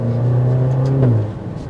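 A 2023 Maserati Grecale GT accelerating, its engine giving a steady, fairly loud drone from inside that rises and then eases off as the revs fall, with a faint whir beneath and no talk.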